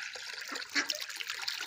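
Water poured out for pet ducks in a village yard, a light trickling splash with a brief louder gush partway through.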